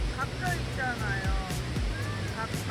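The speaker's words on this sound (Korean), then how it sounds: "바위 옆에 폭포. 들어봐." A waterfall beside rocks at a Canadian road-trip stop around Jasper, heard as a steady broadband rush with faint passing bird calls on top.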